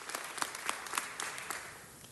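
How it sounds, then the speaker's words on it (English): Applause at a city council meeting, a room full of people clapping steadily with sharp individual claps standing out, moderately loud and continuous throughout. "Let's give them a big round of applause"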